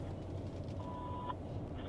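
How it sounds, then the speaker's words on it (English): An answering machine gives a single steady mid-pitched beep of about half a second after its greeting, fairly clear over a constant low rumbling background. "Please leave your name and phone number after the beep."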